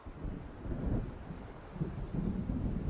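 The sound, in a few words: thunder of an approaching storm in the video game Alan Wake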